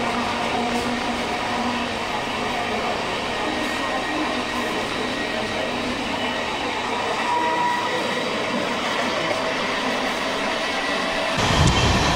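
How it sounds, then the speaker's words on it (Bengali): A long-distance express train running at around 100 km/h from Kolkata, with a continuous loud rumble and rattle of the carriage on the rails heard from inside and a jolt near the end. "ট্রেন মোটামুটি চলছে এখন 102-3 এরকম।"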